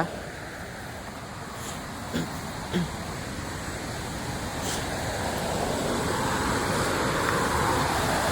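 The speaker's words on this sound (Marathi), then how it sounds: "हा बघा हे धबधबा" Napne waterfall sends a constant, broad rush of falling water, steady and fairly loud, swelling slightly toward the end, with faint scattered knocks and no clear talk.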